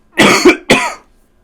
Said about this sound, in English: The cough is still here.